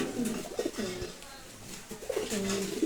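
A pigeon coos in low, rolling phrases, close by, with a pause midway before the cooing resumes, and no other clear sounds.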